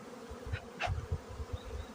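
Honey bees hum around an overwintered hive, a close, steady low buzz with individual bees swelling louder as they pass near.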